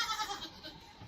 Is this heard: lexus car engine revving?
no